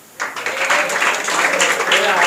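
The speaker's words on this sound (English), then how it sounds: "Keep clapping." Audience clapping at a school confidence-building program award ceremony, a crowd applause that starts abruptly and holds steady and dense for a couple of seconds.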